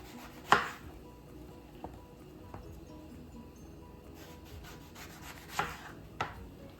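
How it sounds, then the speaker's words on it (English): A knife cuts eggplant into thin slices on a cutting board, giving several sharp, close chops spaced unevenly among softer scraping sounds. "And then just cut thin slices as best you can."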